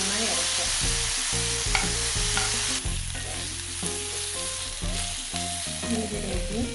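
Onions frying with ginger garlic paste for mutton gravy, sizzling loudly and steadily close up while a spoon stirs and scrapes through the pan with uneven rhythm.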